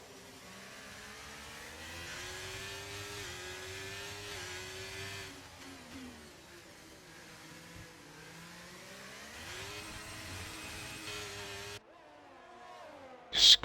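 Ferrari race cars in a racing video game, engines droning and revving up and down as they pass, moderately quiet, before a sudden cut to near silence and a brief loud burst at the end.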